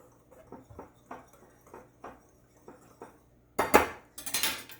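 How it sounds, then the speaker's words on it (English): Flour, salt and sugar whisked together in a bowl for baking powder biscuits, a series of light rhythmic taps and scrapes followed by a louder, faster burst of metal-on-bowl whisking near the end. "Whisk those around to combine them"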